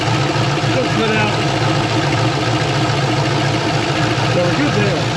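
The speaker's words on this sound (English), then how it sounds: "Let's keep the engine going" A Pontiac GTO engine idles steadily at close range with a low, even rumble and slight rhythmic pulsing throughout.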